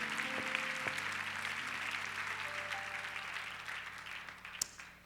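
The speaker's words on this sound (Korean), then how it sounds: "Podemos dar un aplauso al Señor" Audience applause fills a church leadership conference hall in Korea, a steady, even wash of many hands clapping at moderate distance, continuing throughout with little change before easing slightly at the end.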